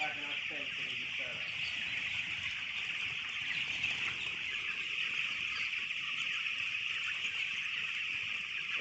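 Dense chorus of chick peeps and clucks from a large flock of about 2000 young chickens being herded out to pasture, steady and continuous throughout, with people's voices faintly mixed in.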